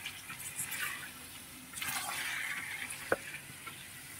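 Beef frying with onions, ginger and garlic paste in a kadai, giving a broad steady sizzle that swells louder midway, with a sharp clack of a utensil near the end.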